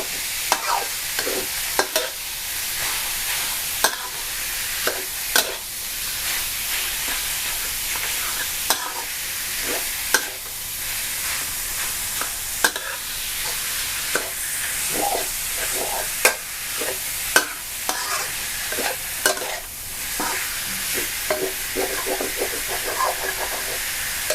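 Minced pork stir-fried for a salted-egg dish, with a steady loud sizzle broken by frequent sharp scrapes and knocks of a spatula against the pan, and no talking.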